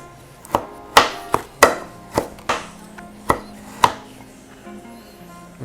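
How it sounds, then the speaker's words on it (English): A knife chops through frozen or fried Filipino lumpia egg rolls stuffed with meat, about eight sharp, distinct cuts at an uneven pace, close and clear, with no talking. "just repeat until all your lumpia are cut"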